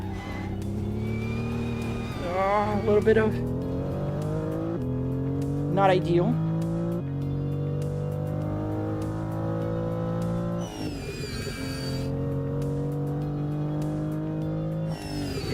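A Volvo racing car in a driving video game, its engine revving up and down through gear changes on a fast lap, loud and continuous with someone talking over it.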